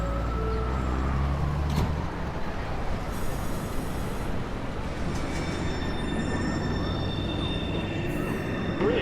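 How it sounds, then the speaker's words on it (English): A Manhattan-bound NYC subway 1 train pulls out of 207th Street station, its steady rumble and rolling wheel noise filling the platform with occasional squeals, loud and continuous throughout. "This is a Manhattan-bound 1 train."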